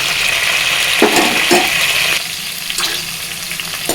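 Spinach, green peas and spring onion curry is stirred in a pan over a loud, steady sizzle of frying, with a few scraping sweeps of the spoon through the vegetables.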